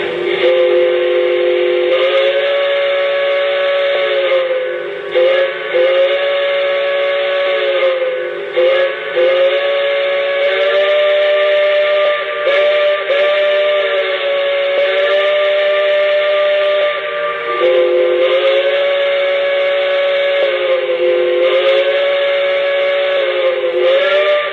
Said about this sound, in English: let's check out the whistle.